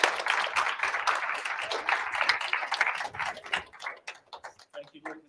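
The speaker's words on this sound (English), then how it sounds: "Give a round of applause." Audience applause at the close of an evening talk and question session on the atomic bomb, a dense patter of clapping that thins out and fades over a few seconds.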